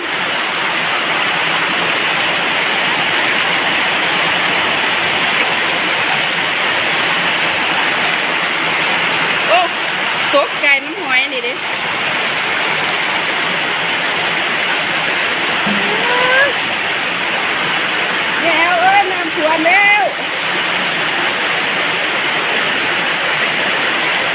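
Heavy rain pours down in the middle of the night with water flowing toward a house, a loud steady roar throughout, with brief faint voices or calls breaking through near the middle and end.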